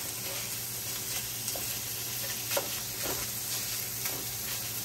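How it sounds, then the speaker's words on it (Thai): Minced pork sizzles steadily as it is stir-fried in a pan for spring roll filling, a constant loud frying hiss with occasional soft stirring scrapes. "แล้วก็ลวนหมูสับให้สุก"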